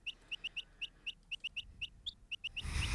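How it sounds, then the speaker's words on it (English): A chirping bird sample triggered as a pattern in Strudel live-coding software repeats as about a dozen short, bright tweets at a steady pulse, ending in a burst of broadband noise. "So this is playing a bird tweet,"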